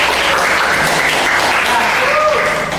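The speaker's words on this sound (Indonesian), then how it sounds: "boleh tepuk tangan dulu" Students clapping in a classroom during a problem-based learning lesson, a steady, dense round of applause lasting a few seconds with faint voices underneath.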